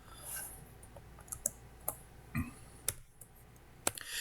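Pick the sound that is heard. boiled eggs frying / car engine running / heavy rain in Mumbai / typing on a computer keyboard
typing on a computer keyboard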